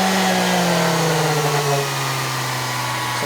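A Milwaukee M18 orbital sander runs on its lowest setting, a loud, steady motor whine with a strong low hum that dips slightly partway through, close and alone.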